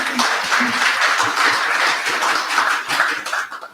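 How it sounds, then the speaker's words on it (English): A crowd at a formal program gives a loud, sustained round of applause for Dr. Gerald Thompson, many hands clapping densely and evenly before the sound tapers off near the end. "Give him a round of applause"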